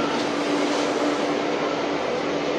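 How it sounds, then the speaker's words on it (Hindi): Metro train pulling into a station in India, a loud, steady broadband rumble and rush with a faint tonal hum, constant throughout with no voices. "बहुत देर के इंतजार के बाद भाई मेट्रो आ जाती है"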